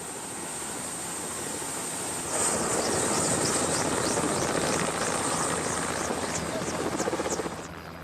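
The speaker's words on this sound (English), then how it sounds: "The helicopter can't actually settle on the ground because it's too marshy" A helicopter hovers close over marshy Siberian ground without settling, its steady turbine whine and rotor noise growing louder partway through and holding strong with pulsing blade chop before easing near the end.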